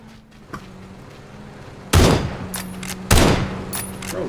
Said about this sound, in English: Bro, why are you shooting at us?